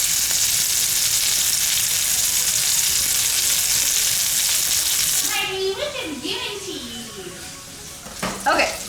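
Seasoned pork chops laid into a hot pan sear with a loud, steady sizzle that fills the first five seconds, then softens and crackles as a voice speaks over it.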